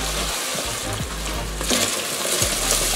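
Garlic and onions sizzle in a hot frying pan while baked ziti is prepared, a continuous close crackling hiss with a few soft clinks and stirring movements, growing slightly brighter partway through.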